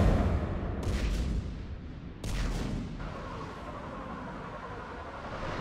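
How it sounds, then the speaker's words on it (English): Ship guns fire on an enemy perimeter in Mass Effect 3, two heavy booming blasts about a second and a half apart, each trailing into a low rumble over steady ambient noise. "Have the guns punch a hole in the perimeter"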